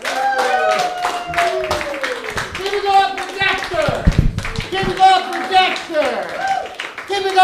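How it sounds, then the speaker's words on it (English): At an open mic standup comedy show, scattered claps from a small audience greet comedian Larry Smith, irregular and fairly close, mixed with voices and cheering around them. "let's match the applause with how loud this man can sound."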